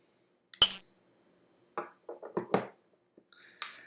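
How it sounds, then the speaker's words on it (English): A single bright strike of a small bell rings out clearly and decays over about a second, followed by a few faint soft clinks and taps. "Gemini is an air sign, and so I do have a bell."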